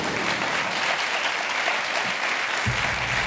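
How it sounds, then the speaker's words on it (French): Studio audience on a French television game show applauds the show's accomplices, a steady wash of many hands clapping loudly throughout, with a low thump near the end. "Applaudissements pour nos complices"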